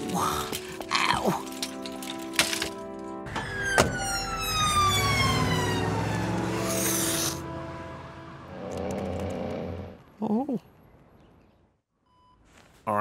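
A cartoon ambulance's wailing siren sweeps up and down over passing traffic noise, loud at first and then fading, with a couple of short electronic bleeps near the end.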